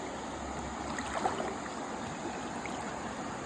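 River water flows around someone wading knee-deep at night while searching for crabs and fish, a steady, close, broadband rush and trickle with no talk over it.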